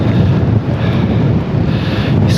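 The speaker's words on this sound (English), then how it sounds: "It's quite windy." Strong wind buffets the microphone beside a lighthouse on the North Sea coast of southern Norway, a steady loud roar with low rumbling gusts that carries on throughout.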